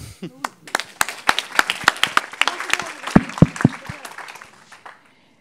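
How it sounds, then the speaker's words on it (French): An audience at a strategy launch event applauds, claps building from scattered individual hits into denser clapping, with a few loud nearby claps before fading out. "Vous pouvez l'applaudir."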